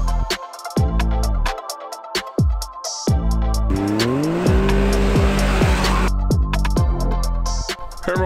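A Can-Am Maverick X3 Turbo side-by-side launching hard in reverse: a loud, close engine roar climbing in pitch, with a rushing hiss in the middle and revving bursts before and after.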